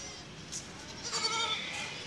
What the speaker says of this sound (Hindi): ये बकरी और बच्चा चेक कर लें आप लोग।